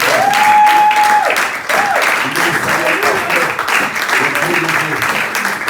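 A church congregation at a Sunday service claps and cheers loudly, a dense, close burst of applause with voices and whoops rising over it, including a sustained shout near the start.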